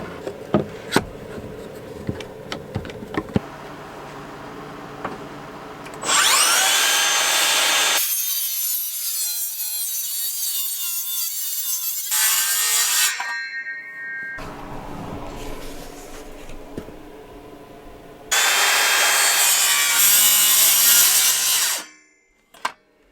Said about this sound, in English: I cut 3 notches in this board. I ran the blade through twice